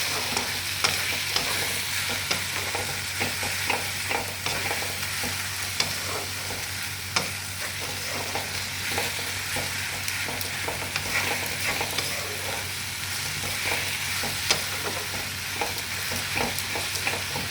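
Sliced onions with ginger-garlic paste sauté in oil in a pan, a continuous close sizzle broken by frequent light spatula scrapes and stirring taps throughout.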